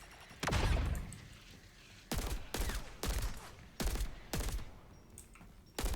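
Burst rifle fire in Overwatch striking a destructible panel: five sharp, loud bursts of rapid shots, the first longer and followed by four evenly spaced bursts, with brief quiet gaps and no talk.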